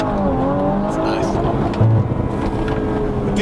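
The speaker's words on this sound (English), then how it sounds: "let's build some boost first, and then let's scare Ernest quickly in his own car" Audi RS5 engine building boost and accelerating, a loud, steady rising drone close by, with people talking over it inside the car.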